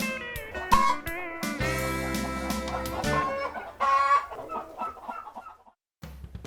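Wyandotte chickens cluck and squawk close by in a busy run of calls, a rooster crowing among them, with a brief quiet gap near the end.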